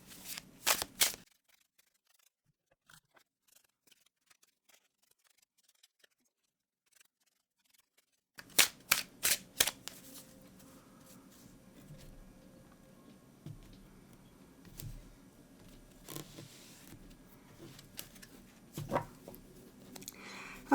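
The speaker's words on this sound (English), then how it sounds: "I'm going to go ahead and give the deck a really good shuffle for you." Tarot cards are shuffled in quick papery riffles and taps, close by, with a long quiet pause and then more shuffling and soft handling.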